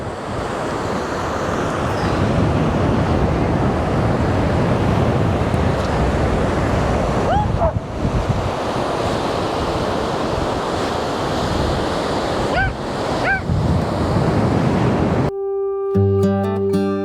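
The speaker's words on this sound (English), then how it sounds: "Not a bad beach, is it?" Ocean surf washes onto a beach on Eriskay, a steady loud roar of breaking waves mixed with gusty wind noise on the microphone, and a short burst of music is heard at the end.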